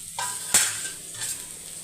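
Curry leaves hitting hot oil in a pan while cooking drumstick leaf powder, a short burst of crackling sizzle with a sharp clink of a utensil, then a steady frying hiss.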